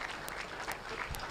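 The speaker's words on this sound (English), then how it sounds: "A big round of applause for him, please." Brief applause at the opening ceremony of a safety conference in West Africa, many hands clapping in a steady patter over a moderately quiet hall, lasting barely more than a second.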